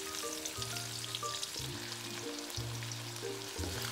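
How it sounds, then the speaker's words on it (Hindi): Onions frying in plenty of ghee with ginger-garlic, a quiet steady sizzle under faint background tones, no voices. "प्याज को हम कलर आने देते हैं, फिर हम इसमें अदरक लहसुन शामिल कर देंगे।"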